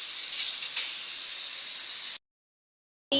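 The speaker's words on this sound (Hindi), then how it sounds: "यहाँ लगा रही हूँ मैं तड़का, तेल गरम कर लिया है, ये रही प्याज" Onions hitting hot oil for a tadka give a loud, steady hiss-sizzle that breaks off abruptly, goes silent, then picks up again briefly at the end.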